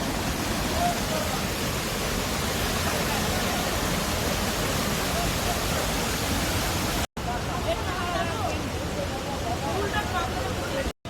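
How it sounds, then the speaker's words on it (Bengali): Water crashes down in a stream with a constant loud rushing roar that fills the scene, briefly cut twice, with no other sounds standing out above it. "জলটা আছড়ে পড়ছে এখানে, দেখুন"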